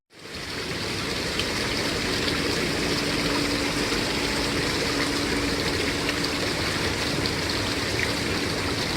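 Water flows at Temple Square in Salt Lake City, Utah, as a steady, close rush that fills the whole stretch without a break, with no talking over it.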